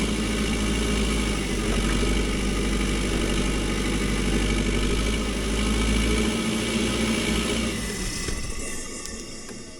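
Backhoe diesel engine idling with a steady heavy low drone and vibration, loud and close, sagging and thinning out near the end as though close to stalling.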